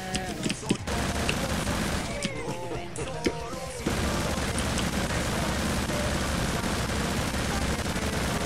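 Dense gunfire from the violent shooter game Hatred, with scattered shots and crashes early, then a continuous loud barrage of automatic fire that holds steady to the end.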